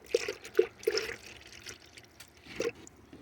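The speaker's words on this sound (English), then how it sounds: "I'm gonna see if I can pour it." Coolant is poured from a jug into a 2010 Honda CR-V, giving a few faint, brief gurgling glugs and trickles, a cluster early and one more near the end, against a quiet background.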